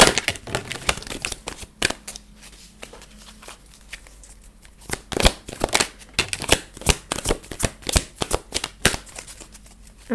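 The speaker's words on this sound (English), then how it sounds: "I'm going to shuffle out a bunch of different cards" Playing cards are shuffled repeatedly up close, crisp riffling bursts and snaps coming in quick irregular clusters with no one speaking.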